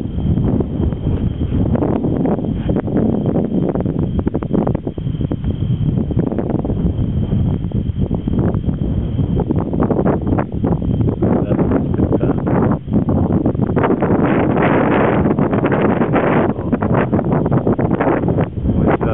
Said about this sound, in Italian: Bene Alberto, lì il vento soffia ancora